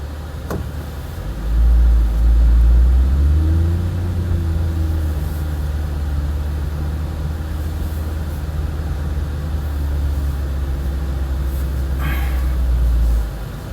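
A C8 Corvette Stingray 70th Anniversary Edition drives in sport mode, its deep engine hum steady and loud throughout, swelling briefly near the start and settling into a constant low drone with faint rattles.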